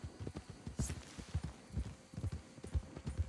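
Hooves of a large horse clip-clop at a walking pace in Red Dead Redemption 2, a steady, soft rhythm of paired thuds close by, quiet and alone without talk.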